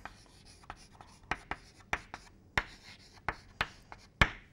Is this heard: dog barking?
no